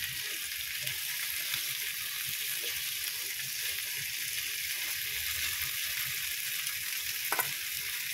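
Boiled beef ribs for iga bakar sizzle steadily in a Teflon pan as they are basted and flipped. The hiss stays close and continuous, with one brief click near the end and no talking.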